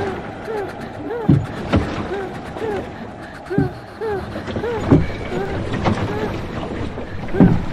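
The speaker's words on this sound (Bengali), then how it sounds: "ভয়ে নৌকার দাঁড় বাইতে শুরু করে তারা, কিন্তু তারা খেয়াল করে নৌকাটা একটুও এগুচ্ছে না।" Oars rowing a boat across water in a Bengali cartoon ghost story, with rhythmic splashing strokes repeating every second or two, close and fairly loud, over a steady watery background with music-like tonal swoops.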